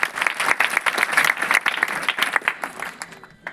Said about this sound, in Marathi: प्राचीसाठी जोरदार टाळ्या